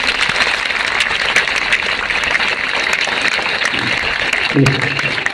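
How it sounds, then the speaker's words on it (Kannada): An audience clapping for a student, a steady, dense wash of applause that carries on evenly throughout, with a voice briefly heard near the end. "ಚಪ್ಪಾಳೆ ಹೊಡೀರಿ ಎಲ್ರಿ"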